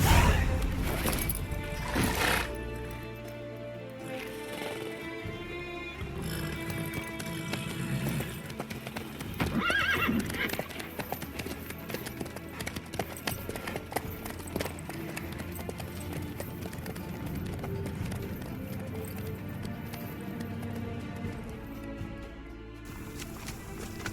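A horse in The Witcher 3: Wild Hunt clops along in a steady rhythm of hoofbeats under game ambience, with a whinny and a few heavier knocks mixed in.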